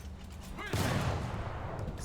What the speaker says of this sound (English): If I right click on my mouse, it will fire the secondary turret